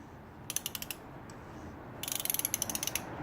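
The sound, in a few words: oil filter wrench ratcheting, BMW 320i oil change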